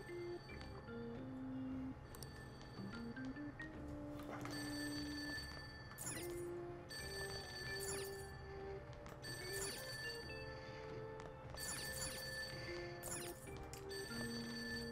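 A cell phone ringing in the video game Persona 5: a repeating electronic ringtone melody, loud and close, with regular chiming bursts over a steady musical background and no talking.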